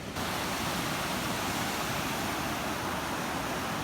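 Rushing water flows through a rocky wadi in Oman after rare rain, a steady broadband roar that stays loud and even from start to finish.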